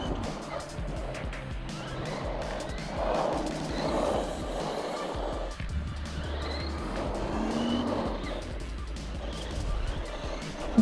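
A Redcat Racing Volcano EPX 1/10 scale 4WD electric RC monster truck makes passes on its first run, its motor whining up and down as it drives near and away outdoors.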